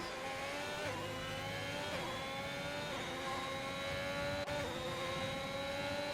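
Ferrari-powered race cars in a racing video game roar together at high revs, engine tones climbing and shifting steadily as the pack runs close, with a continuous loud drone throughout.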